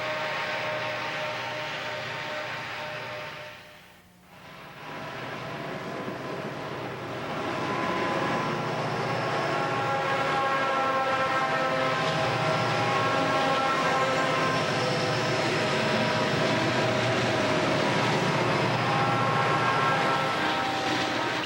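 Rio Grande diesel locomotives haul a train on a steep high mountain mainline, a loud sustained rumble with droning engine tones that dip briefly near the start, then hold steady and close for the rest.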